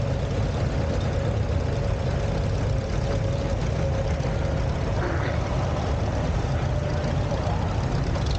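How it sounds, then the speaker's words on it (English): A 1951 Farmall C tractor engine runs steadily at a show, giving a continuous low rumbling drone that stays loud and even throughout amid faint outdoor background noise. "Ryan Brenneman is driving a 1951 Farmall C."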